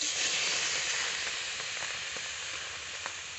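Chopped tomatoes sizzling in a hot wok, giving a steady, soft hiss of frying that carries evenly throughout, with no voices.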